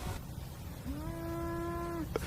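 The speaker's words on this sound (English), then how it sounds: "That cow is way louder than that drone." A single cow moos once, a drawn-out, steady tonal call of about a second, faint and distant against a quiet outdoor background, with no voices.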